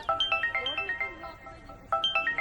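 A mobile phone ringtone plays a repeating bright electronic melody of short, pulsing notes, one phrase and then a second starting after a brief pause, clear and close with no talk over it.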